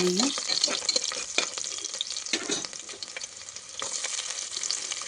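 Cumin seeds and garlic sautéing in a pan give a steady, close sizzle with crackling and scraping stir strokes, holding fairly level throughout and no speech over it.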